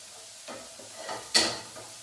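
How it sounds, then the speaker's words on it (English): Onions frying in a pan for a peperonata, giving a quiet, low sizzle broken by soft stirring sounds and one sharper scrape of the utensil against the pan midway. "Just get a bit of colour on those onions before I put it in that pot."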